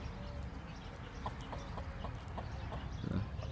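Soft repeated clucks from an Indian game rooster with a clipped wing, close by over a constant low rumble, ending in a slightly louder burst.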